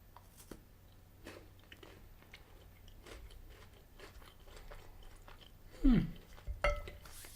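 Someone biting into and chewing a KitKat Chunky Salted Caramel Fudge bar with crunchy wafer, quiet close-up crunches and mouth sounds, with one louder bite toward the end.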